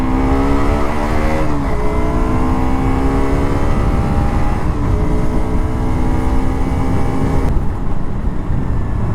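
A KTM RC 125 motorcycle revs up loudly through several gears on a city ride, each rising engine whine cut by a shift and then climbing again, close and dominant over road noise.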